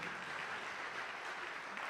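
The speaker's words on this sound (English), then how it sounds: "Let's clap for them." An audience applauds steadily for a school choir and band at a Founders' Day celebration, the dense clapping continuous and fairly loud throughout.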